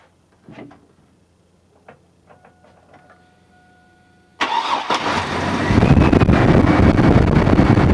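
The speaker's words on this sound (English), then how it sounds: "we're going to start the engine" A car engine cranks and catches after a few faint clicks and a brief steady tone, then settles into a loud, steady run during an air-conditioning refrigerant check with the compressor pumping.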